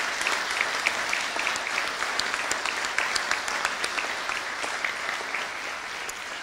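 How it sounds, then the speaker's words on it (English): An audience at the Bury College graduation at The Met applauds college staff with steady, dense clapping that holds evenly from start to finish, without a break or any spoken words over it. "Please give them a round of applause."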